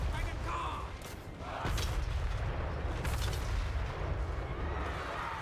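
Enemy ranged units open fire during a Total War: Warhammer 3 battle: loud, booming artillery-like shots ring out over constant roaring battle noise, with two strong blasts standing out.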